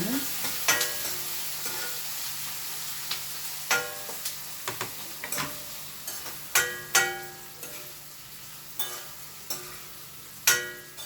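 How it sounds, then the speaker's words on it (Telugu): Sliced onions fry in a pan after green chilies for a tomato egg curry, with a steady soft sizzle broken by a dozen sharp, close scrapes of a spoon stirring against the metal at an uneven rhythm. "నెక్స్ట్ పచ్చిమిర్చి వేగినాక ఉల్లిపాయలు వేసేయండి"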